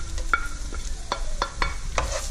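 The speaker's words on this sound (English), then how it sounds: "you make sure you fry it up so the ikan bilis is a bit crispy" Anchovies (ikan bilis) frying with garlic in a pan, heard as a steady close sizzle with repeated scraping stirs of a utensil, with no talking.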